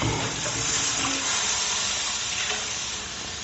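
Water poured into a hot pan over steaks, a loud close hiss and sizzle with rushing water that slowly eases off toward the end.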